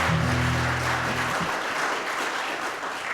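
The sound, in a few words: audience applause for Piper at a coffeehouse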